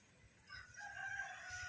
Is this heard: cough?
no